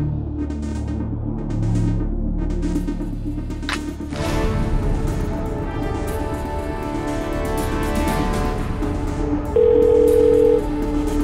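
A phone call is placed: dialing beeps and a ringback tone sound through a handset over a background music score, ending with a brief steady tone near the end.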